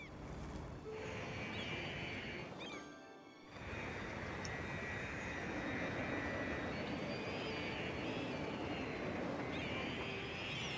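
Airplane in the Cities Skylines city-building game, a steady broadband roar with whistling engine tones that holds loud throughout, dipping briefly near the start before swelling back.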